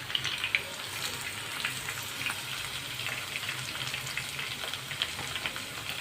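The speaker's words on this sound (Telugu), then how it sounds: "వెల్లుల్లి వేస్తున్నాను ఎండుమిర్చి" Garlic and dried red chillies fry in hot oil for a gonguura pachadi tempering, giving a soft, steady crackling sizzle with small scattered pops throughout, fairly quiet and with no talking.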